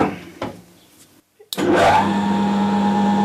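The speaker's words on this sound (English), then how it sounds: "the lathe is in its fastest speed, which is not very fast in the case of this old girl" An old metal lathe spun up to its top speed of 1200 RPM, a steady close mechanical whir with a constant tone after a few knocks and a brief pause.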